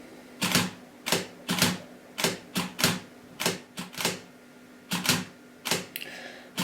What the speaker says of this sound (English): So you can hear the shutter speed is slowing down, the gap between shots is getting longer.